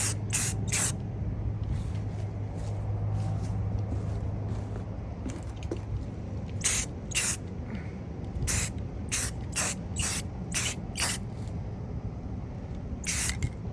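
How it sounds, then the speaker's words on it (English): Spray paint coats a thrifted arched cabinet in short, sharp bursts, several quick sprays in a row followed by a pause, then more clustered bursts, close and loud over a low room hum. "The good thing about this spray paint is it dries pretty quickly"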